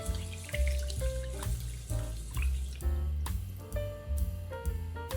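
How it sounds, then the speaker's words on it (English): Tap water runs steadily over Japanese short-grain rice being rinsed, a continuous close splashing wash with no voices. "Rinse the rice until the water runs clear."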